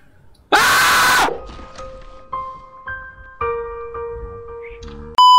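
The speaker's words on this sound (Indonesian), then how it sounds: "Kenapa lompatnya mesti teriak kayak gitu?" In Dying Light, a player character lets out a loud, harsh scream while jumping, lasting about a second, followed by quieter game tones and thuds and another sharp burst at the end.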